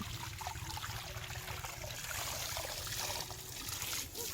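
Water poured onto a lotus tuber planted in a pot makes a soft, continuous trickle, faint and close, with slight splashing changes in the flow.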